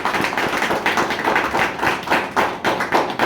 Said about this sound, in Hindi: तो बजा लो एक बार जोरदार ताली